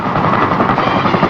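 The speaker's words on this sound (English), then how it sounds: "The Army's heavy-duty helicopter, the CH-47, known as the Chinook" A CH-47 Chinook, the Army's heavy-duty twin-rotor transport helicopter, drones loud and close in a steady, dense roar with a rapid rotor chop running through it and no voices over it.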